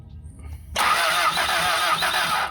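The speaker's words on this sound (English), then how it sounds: "All right, crank it." A starter motor cranks the engine of a Toyota TE72 wagon barn find in a steady, loud whirring grind that begins abruptly and runs without the engine catching, after a brief stretch of quiet background.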